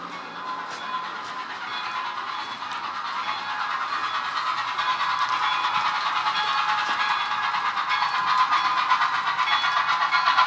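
An HO scale model of a Milwaukee Road train rolls steadily across a river-division layout, a continuous whirring rumble that builds slightly louder with faint rail clicks and no talking.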